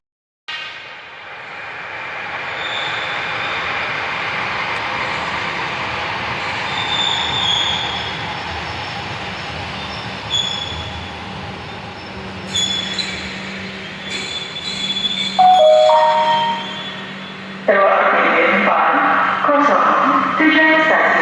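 Light rail train riding through Palembang, with a steady rumble of the car and wheels throughout, rising and brightening toward the end as squealing wheels and braking sounds take over near the close.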